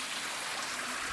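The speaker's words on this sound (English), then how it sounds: "The river is still flowing now from" River flowing past a village, a steady broadband rushing wash of water, moderately faint and even throughout, with no voices.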